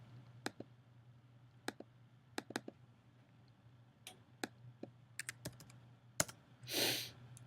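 Values typed on a computer keyboard: sparse, crisp keystrokes in irregular clusters, close and fairly quiet over a low steady hum, ending in a brief rushing burst.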